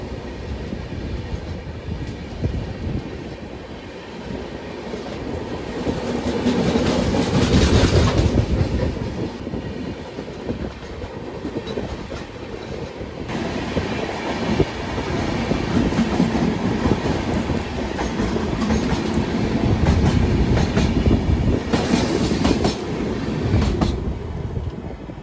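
Loud, continuous rumble and rhythmic clickety-clack of the Vibhuti Express passing the Garib Rath Express on an Indian railway line, swelling in waves throughout with no voices.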